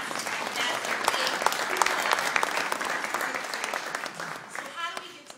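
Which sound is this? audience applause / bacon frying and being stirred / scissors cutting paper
audience applause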